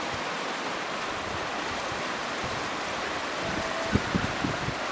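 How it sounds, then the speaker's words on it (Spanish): The large Chiriquí River rushes in a steady, broadband roar heard from a bridge, continuous and fairly loud, with a few faint knocks near the end and no voices. "miren el río Chiriquí, enorme río Chiriquí"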